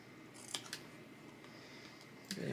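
Scissors snip during a decoupage project on wooden pieces, a few faint, crisp cuts heard close up against a quiet room hiss, with no talking.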